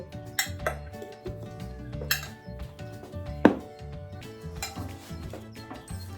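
Hot red pepper flakes being mixed into food in a Sicilian kitchen, irregular clinks and scrapes of a utensil against a pot or bowl, with one sharp knock in the middle.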